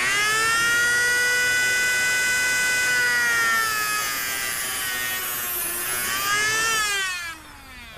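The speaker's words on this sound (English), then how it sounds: "since the cutting of the shield with the moto tool is a very critical operation, I'm going to play that segment over again" A moto rotary tool cutting the shield of a coax cable for a PL-259 connector gives a loud, steady high-pitched whine that bends slightly in pitch as it bites, then drops away at the end.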